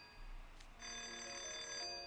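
A telephone bell starts ringing after a brief rustle and keeps up a bright, sustained ring, faint and alone with no talking.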